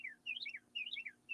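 A small bird chirps right outside a window, repeating a quick descending warble in three bursts at a steady rhythm, fairly faint, with a low background hum and no talking.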